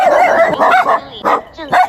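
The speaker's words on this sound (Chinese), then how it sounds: "一大群狗狗冲过来，哇，吓我一跳" A pack of dogs at an abandoned construction site bark and yip loudly and close by in several quick, overlapping bursts.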